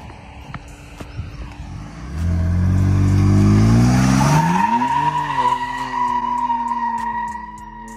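A 2015 BMW M4 engine revs up hard while driving, pitch sweeping upward then dropping and settling into a strong steady drone. The sound is loud and close, with faint tire squeal and no talk over it.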